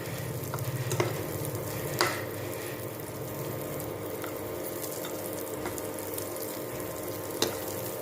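Bajra pieces roasting in ghee in a pan give a steady low sizzle and frying hiss, with a few sharp clinks of a spoon against the pan over about eight seconds.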